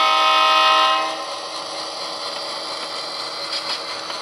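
A model railroad train's horn blasts loudly for about a second, then fades into a steady mechanical hum and rumble of the running locomotive, heard close with no voices.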